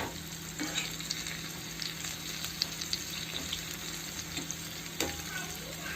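Spinach pakoras fry in hot oil with a steady, dense sizzle and crackle that holds evenly throughout, joined by occasional soft scraping as the fritters are stirred and turned.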